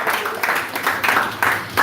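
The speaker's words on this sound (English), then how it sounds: "Let's give her a round of applause" An evening gathering applauds a guest speaker, a short burst of many hands clapping together, steady and moderately loud from a nearby crowd.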